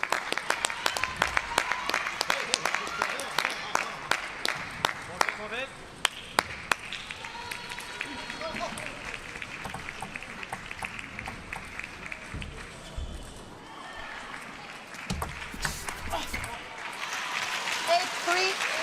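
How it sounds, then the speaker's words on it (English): Chinese fans at a table tennis team match in London, China against Australia, break into sustained applause in an arena, with crowd noise and ball sounds throughout and a commentator talking over them. "the Chinese fans relaxed right now as they applaud Shidong"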